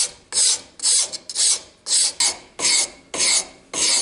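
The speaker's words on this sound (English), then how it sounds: "File down to those lines." A hand file rasps along the edges of a wooden spatula, with about eight steady rhythmic strokes, each a loud scratchy burst followed by a brief pause, close up with no talking.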